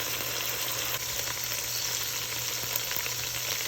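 Onions cooking slowly in a pan on low heat for Madras curry goat give off a steady, even sizzle and hiss at close range, continuous and unbroken, with no voices.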